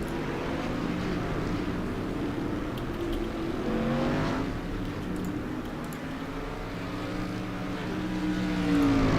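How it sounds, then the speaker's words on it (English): Race cars at Lernerville Speedway rolling out for a 10-lap heat race, a steady broadband engine drone with overlapping revs throughout, swelling near the end. "the cars are heading out right now"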